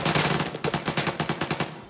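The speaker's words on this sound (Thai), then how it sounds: "โอ้มันยิงไม่หยุดเลยเฮ้ย" Machine gun fire in the shooter video game Arena Breakout, a rapid, unbroken burst of loud, closely spaced shots with a steady rhythm, near and alone with no talking.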